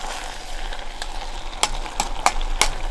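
A camp stew of potatoes and onions simmers softly in a pot, a low bubbling hiss broken by a few sharp clinks and taps near the end.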